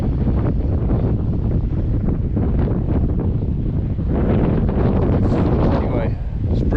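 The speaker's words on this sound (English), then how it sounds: "Anyway, it's breezy still." Wind gusting across a breezy hillside near the Cwmystwyth lead mines in Wales, a loud, continuous roar of buffeting microphone wind noise with no break throughout.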